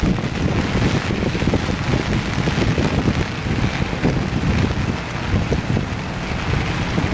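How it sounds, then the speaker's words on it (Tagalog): Strong wind buffets the microphone in a constant rough roar, with rain pattering underneath throughout. "Lakas ang hangin."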